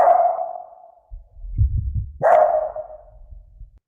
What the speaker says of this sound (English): a dog barking nearby and reverb dry